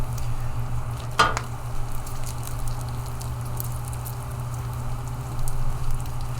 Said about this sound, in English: We got our bacon recording.